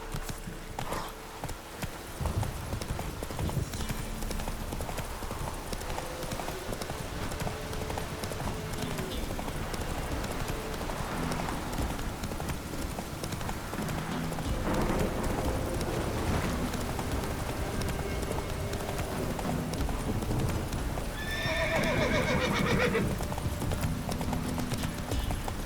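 Hooves of a horse clip-clop at a gallop from The Witcher 3, a steady rapid rhythm running throughout, loud and close, with game battle sounds and a brief whinny-like cry near the end.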